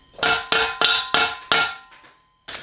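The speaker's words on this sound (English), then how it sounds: "I know there's a handful of you that absolutely hate seeing a hammer anywhere near a bike" A hammer taps a bottom bracket into a BMX bike frame, five sharp metallic strikes in an even rhythm, then a short pause and another blow, close and loud.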